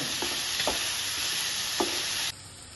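Onions sautéing with salt in a pan, a constant close sizzle with a few soft stirring scrapes, the frying hiss dropping off abruptly near the end.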